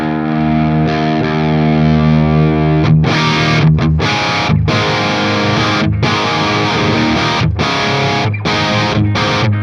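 High-gain electric guitar through a Fryette Ultralead Synergy module, played loud and alone: a sustained distorted chord ringing first, then a run of chunky, choppy rock riffing with short stops between the strummed bursts.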